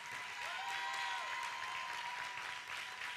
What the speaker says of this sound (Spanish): recibamos con un caluroso aplauso